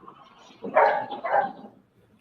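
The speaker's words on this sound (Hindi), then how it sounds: "कितना भौंक रहा है मेरा" A dog barks twice in quick succession, fairly close, with a quiet moment before and after.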